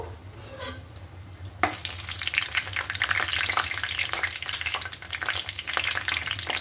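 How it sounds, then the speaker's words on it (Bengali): Whole cinnamon sticks, cardamom pods, bay leaves and peppercorns hit hot oil in a pan for a chicken curry, setting off a sudden loud, steady sizzle that crackles on continuously, close by with no talking. "দারচিনি, কয়েকটা এলাচ, 3টা তেজপাতা, কয়েকটা গোলমরিচ, গোলমরিচ। এটা দিয়ে আমি একটু ভেজে নেব।"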